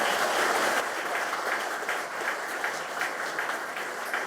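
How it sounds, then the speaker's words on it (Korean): An audience applauds at a Korean celebration honoring a businessman's wife and family, giving a moderate, steady wash of many hands clapping slightly at a distance, with no one speaking. "그래서 오늘 저 집사람과 가족들한테 한번 큰 박수 한번 부탁합니다"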